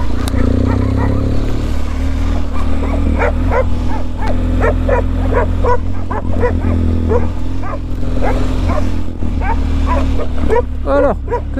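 Several dogs bark repeatedly in short bursts in Bicaz Canyon in the Balkans, close and loud over a steady low engine-like rumble, with some voices.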